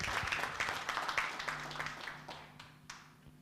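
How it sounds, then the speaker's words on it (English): Scattered applause and clapping from a conference audience in Kuala Lumpur, fading out over a few seconds with a low hum underneath. "Another round of applause for Jeff Sachs."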